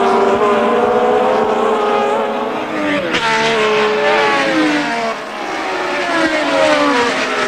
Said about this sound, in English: Jackie Ickx from Belgium then leading the British Grand Prix at the end of the first of 80 laps